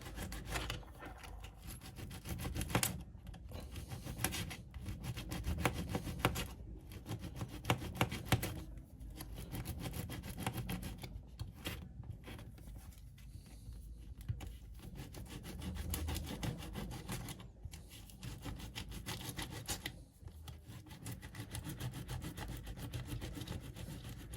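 Steady rasping scrape of coarse sandpaper rubbing back and forth along the edges of a diecast model car, with brief pauses between strokes, close and moderately loud.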